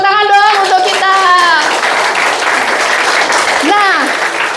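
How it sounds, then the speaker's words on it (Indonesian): Audience at a head office monthly alignment meeting bursting into loud, steady applause, with voices whooping and calling out over the clapping throughout. "Kasih tepuk tangan dong untuk kita."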